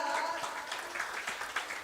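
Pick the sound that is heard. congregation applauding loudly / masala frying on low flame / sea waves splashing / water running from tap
congregation applauding loudly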